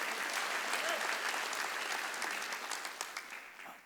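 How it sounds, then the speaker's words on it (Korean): A church congregation claps together during a Wednesday worship service, a dense, steady wash of applause that thins into scattered individual claps near the end. "박수 쳐야 될 거 아니야 이게"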